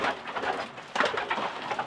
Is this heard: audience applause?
no